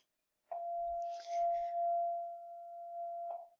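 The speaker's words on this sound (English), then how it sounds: "I apologize about the bell." A school bell rings in a classroom with one steady, sustained electric tone that holds for about three seconds before cutting off, with faint brief rustling partway through.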